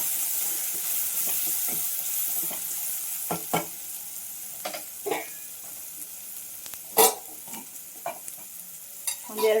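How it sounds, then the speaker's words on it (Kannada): Chili powder and turmeric fry in a pan with a soft, steady sizzle, broken by sharp spatula scrapes and knocks against the pan at irregular intervals. "1/4 ಟೀ ಸ್ಪೂನ್ ಅರಿಶಿನ ಹಾಕೊಂಡು ಫ್ರೈ ಮಾಡ್ಕೊಳ್ಳಿ"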